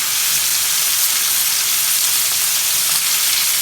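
Pork sears in a hot pan with a loud, steady, close sizzle that holds evenly throughout, with no voices.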